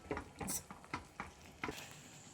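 Ragi (finger millet) dough cooks in a pan while being stirred, giving soft, quiet, irregular scraping and slapping strokes with faint sizzling between them.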